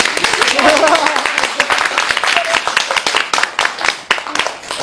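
A live audience claps at a xiangsheng storytelling show in the Deyun Society's small theatre, a dense, steady patter of many hands lasting throughout, with voices mixed in among the clapping.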